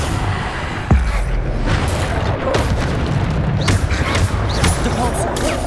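Booming spell blast in Hogwarts Legacy, a Bombarda explosion ringing out through dense game noise, with one sharp hit near the start and further rumbling impacts beneath a constant clatter of battle sounds.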